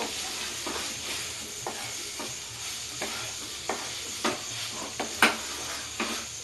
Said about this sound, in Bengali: দিয়ে আমি একটু নাড়াচাড়া করব